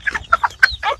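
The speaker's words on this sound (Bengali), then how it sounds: "মুরগির জিজ্ঞেস করলে কি মুরগি উত্তর দিতে পারবে?" Chickens cluck close by in a quick burst of four or five short, nasal calls, loud and clear with no talking.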